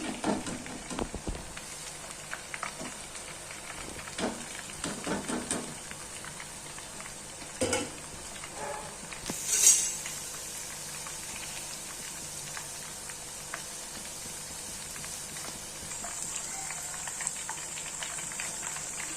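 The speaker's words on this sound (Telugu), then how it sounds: "ఇలా కాగుతుంది." A pot of liquid boiling for homemade laddus, giving a soft, steady bubbling and simmering hiss with occasional louder pops, heard close and alone.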